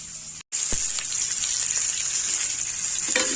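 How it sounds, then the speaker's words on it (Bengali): Potatoes fry in oil with a steady, loud sizzle that runs almost without a break after a brief pause at the start. Faint stirring is heard and no one speaks. "আলুটা লাল লাল করে ভাজা হয়ে এসেছে।"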